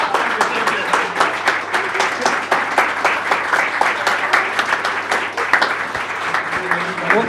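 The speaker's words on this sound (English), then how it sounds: "Give them a round of applause." An audience at a panel discussion applauds the Seiko team with sustained, dense clapping that holds steady throughout, loud and close.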